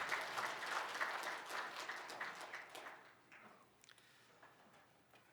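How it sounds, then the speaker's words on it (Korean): A church congregation at Sunday worship gives a round of applause, a broad wash of clapping that fades and thins out into scattered claps and quiet room sound. "하나님께 영광의 박수 올려드리겠습니다"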